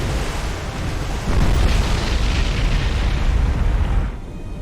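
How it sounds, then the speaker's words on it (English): A ship's magazine explodes in the naval game War on the Sea, a loud rumbling blast that swells into a sustained roar before cutting off abruptly near the end. "she suffered a magazine explosion"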